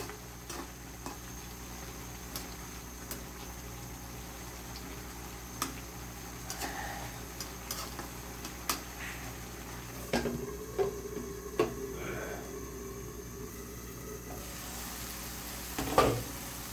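A pan of gura fish curry simmers softly with faint sizzling while a spoon stirs it gently, making light scattered clicks and scrapes that build slightly near the end.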